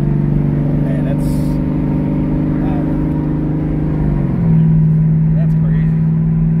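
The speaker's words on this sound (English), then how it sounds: "you can hear them turbos blow" A 6th-gen Camaro SS with a Huron Speed twin-turbo kit drives along with a steady engine drone, its turbo blow-off faint beneath a shift in pitch partway through, under talk.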